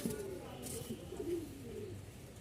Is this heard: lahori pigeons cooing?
yes